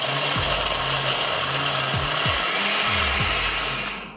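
A blender grinds nuts to make nut milk with a loud, steady whirring roar that holds throughout. Brief pitch dips and strains recur as the load shifts, then the motor winds down at the end.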